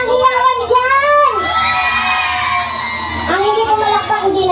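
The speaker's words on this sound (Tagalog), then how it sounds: "Masigabong palakpakan na kasamang hiyawan dyan!" A fiesta concert crowd cheers and shouts loudly, high excited voices whooping together and rising, then settling into a sustained roar of cheering.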